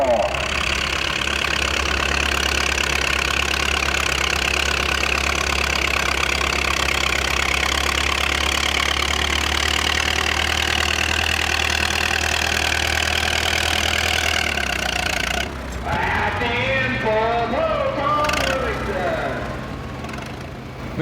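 Tractor engines at a tractor pull idle with a steady, loud low rumble and knocking chug for most of the stretch, then the engine note drops and shifts near the end, with people talking over it.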